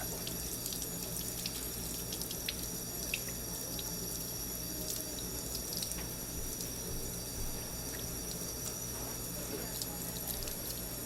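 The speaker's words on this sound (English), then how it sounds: "we're gonna rinse our brushes, but only in cold water" Cold water runs steadily from a tap as makeup brushes are rinsed, a soft continuous splashing hiss with faint drips, heard alone and at low level.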